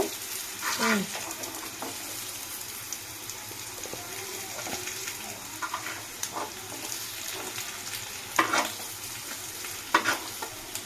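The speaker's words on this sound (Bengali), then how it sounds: "তো আলুটা লাল লাল করে ভাজা হয়ে গেছে" Potato pieces frying in oil give a faint, steady sizzle under scattered stirring and scraping sounds in a pan, with a few louder clinks near the end and no clear speech.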